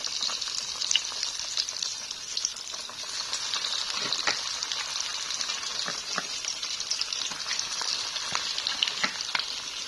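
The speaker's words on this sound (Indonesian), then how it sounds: "Aku goreng yang ini ya." Cassava fritters fry in a pan with a steady, bright sizzle throughout, broken by occasional crackles and pops as the oil spits, close and continuous with no talking.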